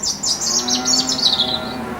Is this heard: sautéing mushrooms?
no